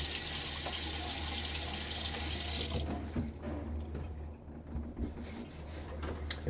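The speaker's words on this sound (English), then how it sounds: "And let's throw a little bit of water on my face." Tap water runs steadily into a bathroom sink as the face is wetted before a shave with a Timeless SS .68 OC safety razor, a loud broadband rush that thins out partway through into lighter splashing and trickling.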